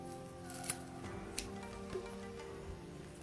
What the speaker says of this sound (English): I'm just going to cut that tail off there